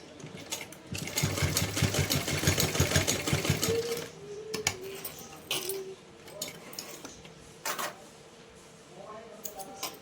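A sewing machine stitches a small dress for a Laddu Gopal idol from a straight strip of fabric. It runs in a loud, rapid burst of whirring stitches, then makes shorter, intermittent runs with pauses and light clicks between them.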